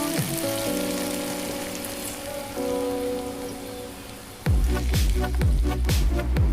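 Dhekia fern and crushed outenga (elephant apple) fry in a pan for an Assamese fish curry. A continuous hiss and crackle of frying is heard, growing louder near the end with some clattering.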